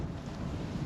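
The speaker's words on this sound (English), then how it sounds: "It's pretty cold out and windy." Cold early-spring wind blowing across a riverbank while bank fishing, a steady broadband rush buffeting the microphone for about a second, with no voices.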